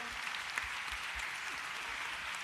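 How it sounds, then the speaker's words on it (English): Dense, continuous clapping from a crowd at a live political rally in New Orleans, steady and fairly loud throughout. "Keep clapping it up for these folks."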